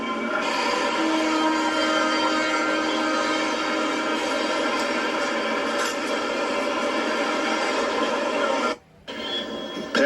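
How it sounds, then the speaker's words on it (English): Conrail TV2 freight train passing at Lewistown in summer 1990: a loud, continuous rumble and steel hum with a faint steady tone, holding level for about nine seconds before briefly cutting out near the end. "Passing train is Conrail's TV2."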